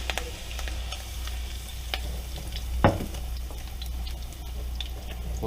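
Garlic and fresh Italian parsley sizzle steadily in a frying pan, a soft continuous crackle with occasional pops and one brief stir, nearby and fairly quiet with no talking.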